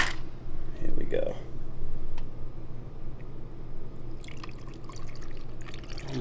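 Sprite is poured into a grapefruit crush cocktail, splashing and fizzing close by with dripping and bubbling liquid, under a person talking.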